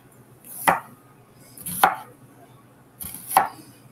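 A knife chops through an onion on a board in three distinct, evenly spaced cuts about a second apart, close and clear with no talking.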